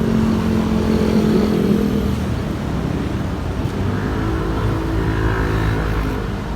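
Road traffic at a busy street crossing on foot near a shopping mall, with engines droning and revving close by in a steady broadband roar, no voices.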